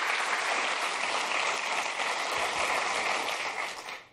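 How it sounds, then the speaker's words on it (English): Polite audience applause at a Visual Studio 2015 keynote, a dense even patter of many hands that holds steady for about four seconds before fading out at the end. "Thank you very much for that smattering of applause"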